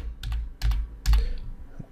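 Fingers type on a computer keyboard in three quick bursts of clustered key clicks, close and crisp against a quiet background.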